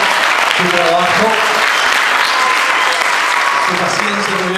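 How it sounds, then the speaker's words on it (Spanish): An audience at a Spanish-language talk breaks into sustained, loud applause, a dense continuous clatter of many hands clapping, with a voice speaking faintly underneath at the start and end. "Démosle un aplauso a Diego de su creatividad, su trabajo,"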